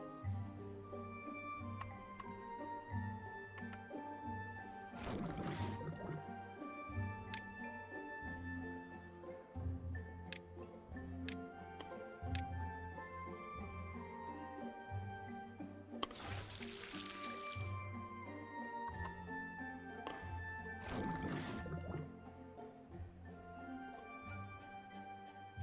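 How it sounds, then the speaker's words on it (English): Water flowing through a beaver colony's channels in the Timberborn video game, a soft running wash under steady background music with a few brief louder surges. "Finally, here comes the good water."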